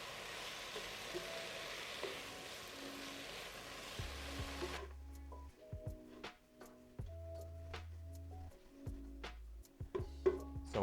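Leeks sizzle gently in bacon fat in a pan, faint and steady at first, then a quieter stretch broken by irregular ticks, pops and light clanks nearby; no talking.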